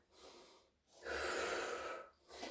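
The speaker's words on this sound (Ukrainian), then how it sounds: "Вдих, видих." Slow breaths drawn in and pushed out during a pilates exercise, soft and close, with a short pause between each inhale and exhale.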